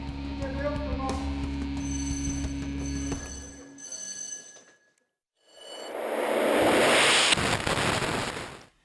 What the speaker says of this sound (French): The explosion, though appearing very violent in slow motion, was used with surgical precision to open the door of the apartment.